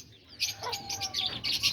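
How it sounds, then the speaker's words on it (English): Aviary birds, including diamond doves, give a flurry of short, bright chirps and tweets in quick irregular bursts, fairly close and alone without voices. "that's the diamond doves"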